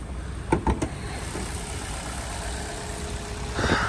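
A 2018 Kia K5 with a 2.0 gas engine idles steadily, a close, even mid-low hum broken by a few short clicks and knocks near the start and a brief rise at the end.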